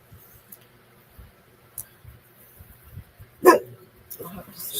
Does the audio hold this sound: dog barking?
yes